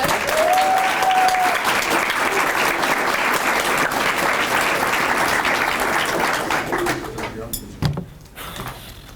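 An audience at a state debate final applauds the finalists in a full, steady round of clapping that fades near the end, followed by a sharp knock or thump and a quieter room.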